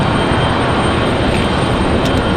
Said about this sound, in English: That was a United Express CRJ 550.